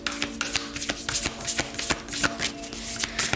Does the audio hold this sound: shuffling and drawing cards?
yes